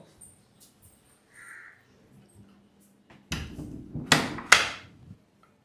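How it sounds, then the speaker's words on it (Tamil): A house door pushed shut, several loud thuds and rattles close together after a quiet stretch with faint crow caws in the background. "முதல்ல அந்த கதவை சாத்து போ"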